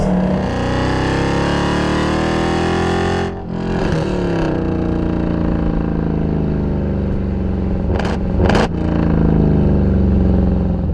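A Mercedes C63 AMG Black Series, its rev limit raised to 7,200, roars close and loud as the engine is revved hard. The pitch rises and falls in long sweeps, broken by a few sharp blips.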